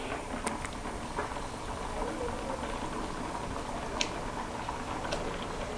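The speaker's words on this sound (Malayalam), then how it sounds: "ഇപ്പോൾ തിളച്ച് വരുന്നുണ്ട്." Cucumber pachadi comes to a boil in a pot, a low steady bubbling hiss with faint occasional ticks and pops, quiet and continuous.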